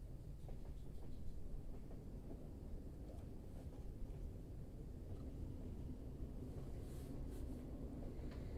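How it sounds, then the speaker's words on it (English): A steady low rumble of a moving train plays as relaxing background sound, a continuous dense roll with faint rhythmic rattling and no voices. "we could have like relaxing train sounds"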